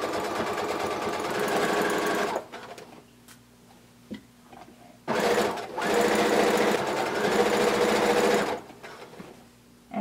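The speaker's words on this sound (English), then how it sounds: "we're going to sew starting 5/8 of an inch from the edge of our sleeve" A sewing machine stitches the sleeve seam of a blanket coat in two loud bursts of rapid whirring, with a quiet pause between them filled by small clicks and handling sounds.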